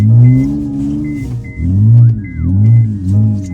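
A Honda car's engine revs and drones in loud, rising and falling surges while drifting on snow, the rhythm swelling and dipping in repeated waves with no voices over it.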